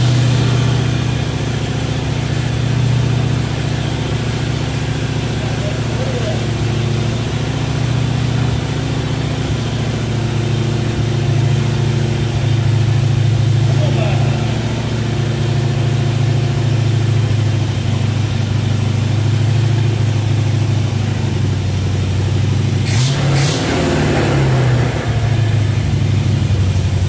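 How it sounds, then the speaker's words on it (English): A 1954 Chevy truck engine idles a little high after a fuel pump replacement, a steady close rumble throughout with a brief clatter near the end and no talk. "She's idling a little high."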